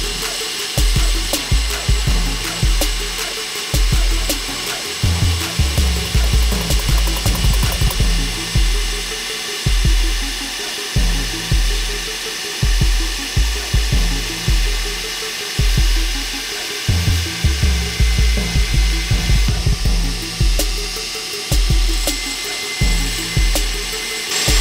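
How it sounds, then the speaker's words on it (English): A falchion blade ground on a small contact wheel of a belt grinder, a steady loud abrasive whine with a low motor hum, broken by repeated short passes that rise and fall in a regular rhythm, no voices. "we can now swap out to the smaller contact wheel and start grinding in the parallel pullers near"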